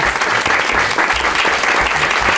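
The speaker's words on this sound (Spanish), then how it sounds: "un aplauso para ellas, por favor, que están ahí" Applause for a radio production team at a film event, a dense continuous crowd clapping that stays loud and steady throughout.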